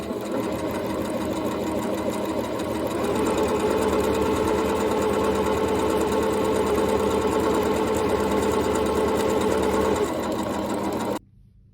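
Sewing machine running a steady straight stitch along the hem of pant legs, a continuous close mechanical whir that holds for about ten seconds, then stops abruptly.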